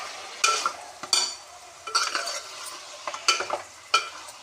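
Chicken being stirred with turmeric and salt in a pan, giving repeated scraping, clattering strokes in short bursts about once a second, close and fairly loud with quiet gaps between.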